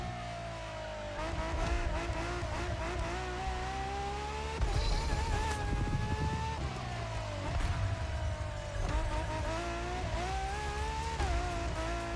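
A Ferrari LaFerrari in The Crew Motorfest racing game screams at high revs, its engine pitch rising and dropping through repeated shifts as the tires squeal and skid while losing traction, loud and continuous.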